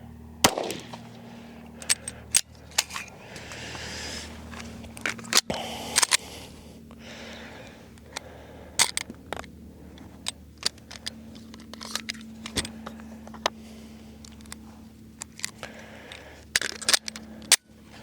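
Shots from an FN Herstal 509C pistol, sharp isolated cracks spaced irregularly with pauses between, a few landing in quick pairs, over low background hum.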